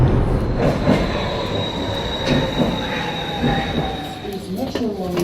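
A Budapest metro line M2 train runs with a steady rumbling roar, rhythmic wheel clacks and a thin high squeal from the wheels, close and continuous, with faint voices underneath.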